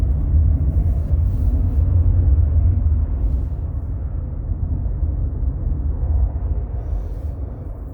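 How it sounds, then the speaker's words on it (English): A steady low rumble of a helicopter passing overhead at a distance, droning continuously with a slight swell and fade. "That one may actually have been a helicopter."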